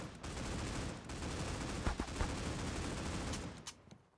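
Rapid gunfire from the mobile shooter Critical Ops crackles in a dense, continuous burst with a few sharper shots near the end, fairly quiet overall and then trailing off.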